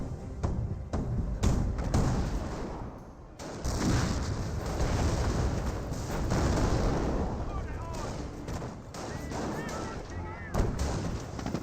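Company of Heroes battle audio: repeated gunshots and booming explosions roll out in dense, uneven bursts for the whole stretch, with a commentator's voice running underneath.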